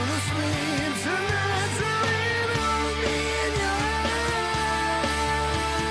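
Heavy distorted guitar chords from a metal song fill a dense, loud full-band mix, with sustained chords ringing continuously alongside strings carrying a melody.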